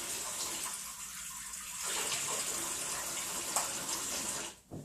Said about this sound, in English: Put a 1/4 cup of water in with this.